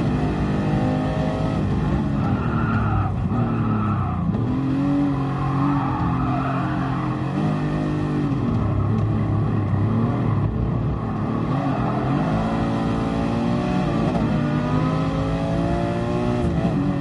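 A Ferrari F40 engine in the video game Gran Turismo Sport drones steadily, its pitch rising and falling through gear shifts and revs, loud and continuous with no talking.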